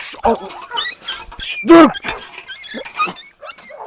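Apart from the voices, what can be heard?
Kangal dog yelping after its paw is stepped on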